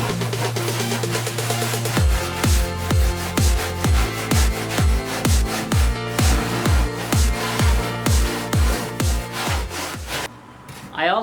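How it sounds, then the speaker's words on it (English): A large surfboard G-rasp is pushed steadily across an XPS foam blank, making a long run of regular, loud scraping strokes about two per second, close up and without talk. "This is a big rasp specifically made for shaping surfboards."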